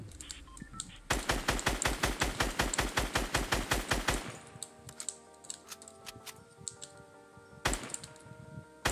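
Gunfire at an enemy in Fortnite, a fast burst of rapid shots for about three seconds, then scattered quieter single shots and one more loud burst near the end.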